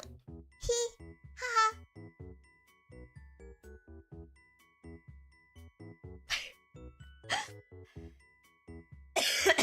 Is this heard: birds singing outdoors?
no